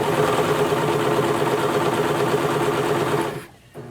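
A domestic sewing machine stitches with black thread in a rapid steady mechanical whir and rattle, close and loud for about three seconds before stopping abruptly.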